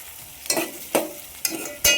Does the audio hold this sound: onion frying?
yes